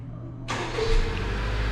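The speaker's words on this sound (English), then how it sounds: "and just like that, the car will start" A 2017 Honda Civic Coupe Touring starting by remote start: a brief cranking burst, then the engine catching and settling into a steady idle, heard close and clear.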